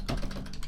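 A command typed on a computer keyboard, a brief close burst of soft rapid key taps with no talking.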